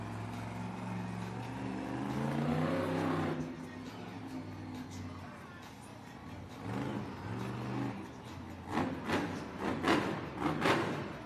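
A Monster Jam monster truck in an arena two-wheel skills competition in Baltimore revs its engine in a loud, swelling drone, then rises again in several sharp bursts over crowd noise.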